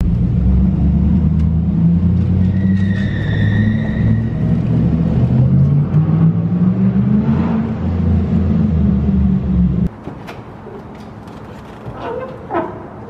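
A 2010 Cadillac Escalade with its muffler deleted cold-starts and settles into a loud, deep idle rumble with a slight rev swell, then the engine note drops abruptly to a quieter, steadier idle near the end.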